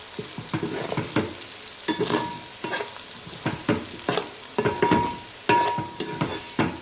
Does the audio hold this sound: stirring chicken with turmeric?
yes